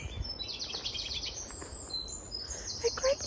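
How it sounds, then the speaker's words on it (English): Song thrush and wren singing at an allotment: rapid, high chirping phrases repeat across the whole stretch, moderately near and clear, over faint background noise with no talk. "It was just picking up a song thrush and a wren."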